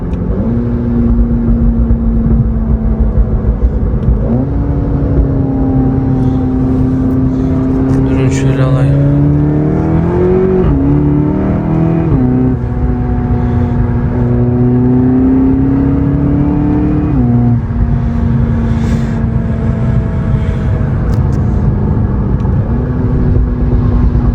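A Seat Leon Cupra engine idles loudly, then revs up several times in rising and falling bursts before settling back to a steady idle.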